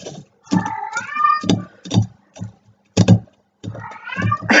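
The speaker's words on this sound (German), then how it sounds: "Meine Katze schreit im Hintergrund." A cat in heat yowls repeatedly in the background, drawn-out wavering cries in several bursts separated by short pauses, moderately loud indoors.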